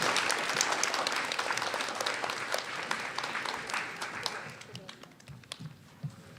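Steady applause from a school audience at a grade 9 and 10 spoken word poetry event, dense and loud at first, then thinning into scattered individual claps toward the end.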